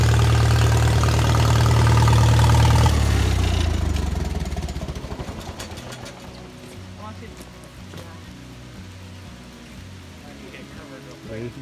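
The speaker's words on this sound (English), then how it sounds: "1941 FARMALL." A 1941 Farmall tractor engine idling on a homestead, a loud, low, rhythmic chugging that fades as it moves away and settles into a quieter steady putter, with voices talking over it.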